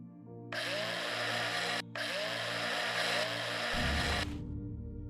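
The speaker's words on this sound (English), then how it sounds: "Okay, a space drill" A space drill whines steadily while boring in Breathedge, a loud buzzing drone that stops for a split second near the start and then runs on before cutting out, with a low hum underneath.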